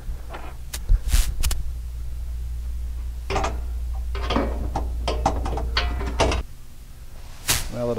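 A screwdriver pries a wiring connector out of a channel inside a freezer unit, making close, sharp clicks, snaps and scraping bursts in irregular clusters with short quiet gaps.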